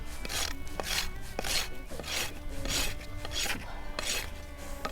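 A farrier's rasp files a horse's hoof in steady, rhythmic back-and-forth strokes, roughly two per second, close and fairly quiet, with no voices.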